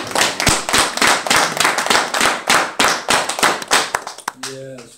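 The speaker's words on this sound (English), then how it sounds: "Give the Lord a big hand clap." A church congregation claps hands loudly and close in a busy, uneven rhythm for several seconds before the clapping fades and a voice briefly takes over.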